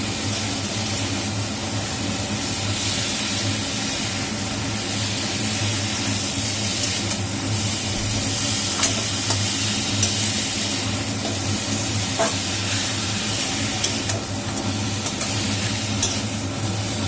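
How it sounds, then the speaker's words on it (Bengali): Spice paste sautéing with a fish head in a pan for dal, giving a steady, continuous sizzle and stirring hiss that stays even throughout, with no voices. "মা ওই মুড়োটার সাথেই মশলাটা ভালো করে কষাচ্ছে"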